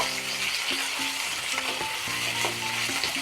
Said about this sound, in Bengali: গোটা গরম মশলা আর কয়েকটা গোটা জিরা আর একটা তেজপাতা চারটে বড় সাইজের পেঁয়াজ কুচি সুন্দর করে ভেজে নেব